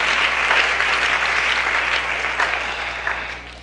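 Steady, dense applause from a live audience at a community Resurrection event in Tzucubal, Nahualá, holding loud and even before tapering slightly toward the end.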